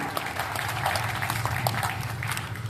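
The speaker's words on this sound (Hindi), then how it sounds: "दोनों हाथ हवा में उठाकर जोरदार तालियां बजाइए।" Audience applause at a kavi sammelan poetry evening in Sojat City: dense, steady clapping fills the whole stretch at even loudness over a low sustained hum.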